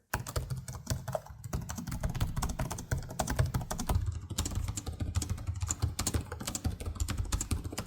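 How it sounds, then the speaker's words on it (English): Steady typing on a gaming laptop keyboard, a continuous stream of close, crisp key clicks at an even rhythm with no voices. "The STRICKS has a lot more key travel and better balanced keys, so typing on it feels better."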